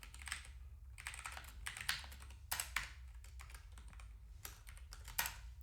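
Fingers type on a computer keyboard during an F# livecoding session, with quick bursts of soft clicking keystrokes separated by brief pauses, faint and close.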